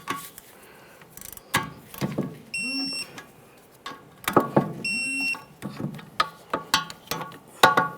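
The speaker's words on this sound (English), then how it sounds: "Now let's torque them to that 47 foot-pounds." A torque wrench tightens hub bolts on a 2012–2015 Honda Civic to 47 foot-pounds, giving sharp ratcheting clicks in short bursts, close and loud, with two high electronic beeps partway through.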